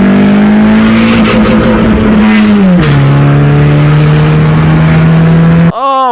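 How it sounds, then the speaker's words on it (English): A car with an automatic transmission revving hard and sounding rough, its loud engine drone holding steady, dipping as the gear changes, then cutting off abruptly near the end. "Car sounds bad."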